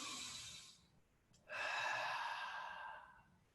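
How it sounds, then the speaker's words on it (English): A slow, audible breath taken close to the microphone: a soft inhale, a brief pause, then a long, airy exhale that fades out, with no speech over it. "just a big deep breath."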